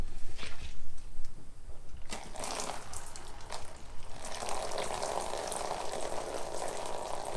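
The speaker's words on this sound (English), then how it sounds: "watch the splash" Used motor oil pours and splashes into a bucket in a garage during an engine teardown, a continuous bubbling, gushing liquid stream that swells louder partway through.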